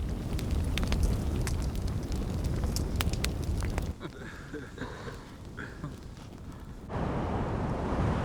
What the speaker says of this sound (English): There is a terrible wind, and it is picking up the sand.